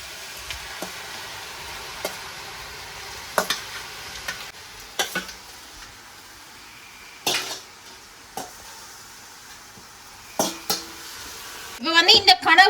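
Squid stirred into onions fried with chili powder in a pan gives a low sizzle under repeated spatula scrapes and metallic knocks, ending in a busier burst of clattering stirring.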